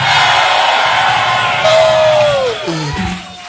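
A church congregation shouts "hey" together in a loud, sustained crowd roar of mixed voices, close and full, fading out near the end.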